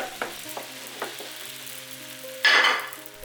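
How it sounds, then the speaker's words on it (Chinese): Flatbread dough sizzles in an oiled electric pan over high heat, a steady close frying hiss with a few soft taps, then a louder crackling burst as the dough settles in. "电饼撑开大火预热，刷薄油，放入饼坯，"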